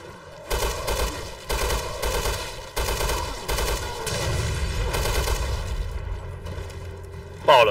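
Rapid bursts of gunfire in the video game Resident Evil Revelations 2, loud repeated volleys with short gaps between them and a rumbling low background, with no talking.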